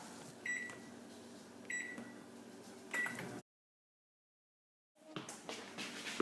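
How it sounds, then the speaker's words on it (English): A microwave oven hums quietly with several short beeps while melting soap base, then falls silent before the hum resumes; close and low in volume. "we're going to microwave it for 10 seconds"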